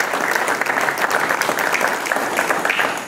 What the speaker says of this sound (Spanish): pido un aplauso también a Juan Carlos García y su comité de trabajo por este